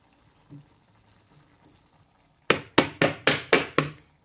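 A knife cuts through coriander vadi on a chopping board: six sharp, evenly spaced thuds come in quick succession after a quiet stretch, close and distinct.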